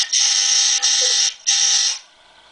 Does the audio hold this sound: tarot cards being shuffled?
no